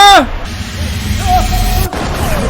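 A single loud gunshot cracks at the start in the horror video game Paper Dolls 2, followed by rumbling game ambience and tonal effects; a voice can be heard in the mix.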